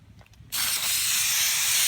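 A spray nozzle aimed off to the side while making a sword: after a short quiet moment a sudden loud, steady hiss begins and continues evenly to the end.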